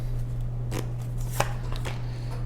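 Tarot cards are shuffled and pulled in a few quick, close papery flicks and snaps over a steady low electrical hum, with no talking.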